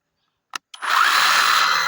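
A handheld fodder cutting machine for chopping fenugreek fodder starts with two brief clicks, then runs with a steady, loud, high motor whine that holds continuously to the end.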